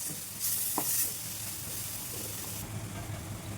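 Tomatoes frying in a damaged kadai, a steady moderate sizzle with bursts of louder hissing steam early on and a light scrape of stirring.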